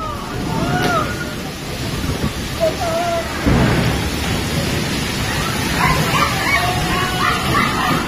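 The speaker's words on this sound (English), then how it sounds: "Heavy rain and wind tossed furniture away." Heavy rain pours down with gusting wind in a dense, loud roar during a storm in southern China, tossing furniture, while a dog barks and yips several times nearby.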